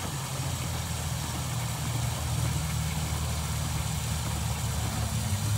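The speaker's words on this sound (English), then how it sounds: "All right, so it's pumping pretty good" An LMI chlorinator pump runs while being primed, a steady close mechanical hum with a low, even drone and faint vibration throughout, no speech.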